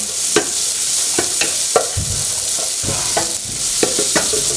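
Onion sizzles steadily in a hot pan for pork curry, a broad constant hiss broken by several sharp clinks and scrapes of a spoon stirring.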